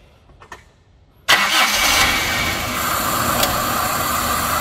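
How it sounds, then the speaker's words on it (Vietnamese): A Toyota Zace engine cranks and fires abruptly after a brief quiet moment, then settles into a steady, loud idle heard up close. "Rồi nổ máy đi."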